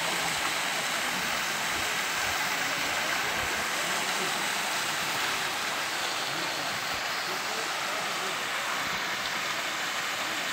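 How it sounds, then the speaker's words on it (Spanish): Waterfall and mountain stream at the source of the Cuervo River, a steady broad rushing roar of falling water with faint voices in the background. "Una catarata, qué guay."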